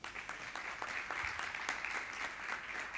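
Steady applause from a crowd at an architecture networking event, dense rapid clapping that holds at an even level throughout.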